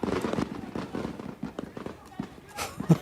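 Fireworks going off in news footage, a run of crackling pops and bursts over a noisy background with voices mixed in.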